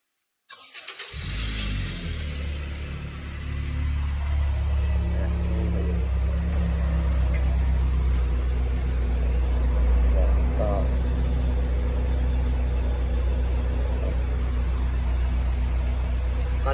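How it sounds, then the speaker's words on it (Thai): A Honda Freed GB3 engine starts by remote start, cranking to life abruptly and then settling into a steady, close idle hum that carries on without a break. "อันนี้ จะมาสั่งรีโมทสตาร์ทนะครับ"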